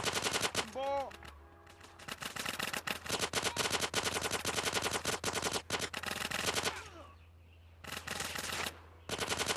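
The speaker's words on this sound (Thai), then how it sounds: "ก็จะไปในปืนกลนี้แล้วครับ เราก็จะเข้าไปยิงนะครับ" Rapid bursts of machine gun fire in GTA San Andreas, loud and sustained, with brief pauses between volleys.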